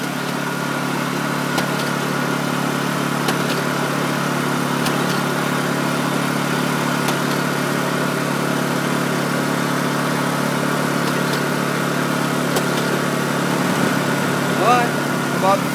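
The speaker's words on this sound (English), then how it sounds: "Now this generator is on too." A Honda EU2000i portable generator running steadily at close range, a constant mid-pitched engine hum with faint ticks, and a voice talking over it.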